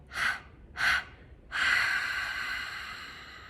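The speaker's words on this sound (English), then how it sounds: "Take a few clearing breaths. Breathe in through your nose. 3-part exhale." Breathing exercise during a seated meditation: two short, sharp nasal inhales followed by a longer sustained breath that fades slowly, close and alone with no talking.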